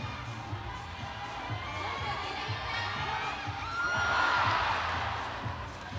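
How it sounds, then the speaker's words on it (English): A large crowd at a bouldering world championship semi-final in Hachioji roars and cheers, the noise swelling and peaking before easing off, with faint commentary underneath. "Big crowd reaction there."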